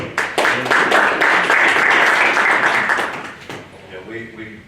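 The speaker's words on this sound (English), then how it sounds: "we definitely want to applaud" Audience at a convention business meeting breaking into sustained applause, dense clapping building quickly, holding for about three seconds, then tapering off as a voice begins speaking.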